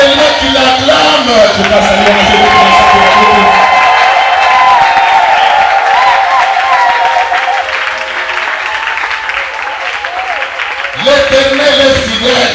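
A church congregation at a sermon applauds and cheers. Loud, dense clapping and crowd noise fill the room without a break, briefly thinning before a fresh surge near the end.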